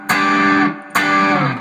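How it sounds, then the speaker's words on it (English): An electric guitar with its volume wide open plays through a Tube Screamer overdrive pedal, giving two loud, sustained distorted chords, each struck hard and ringing before the next. "if I bring my volume wide open, it's going to put more volume through the pedal, so I'm going to have more distortion come out."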